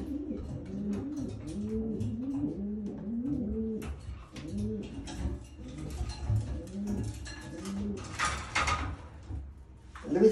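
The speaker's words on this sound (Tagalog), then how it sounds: "Louis Opel po, malalaking kalapate." Large Louis Opel pigeons coo in a rhythmic, repeated, throaty pattern close by in a home breeder's loft, with a few faint clicks and rustles and a brief clatter near the end.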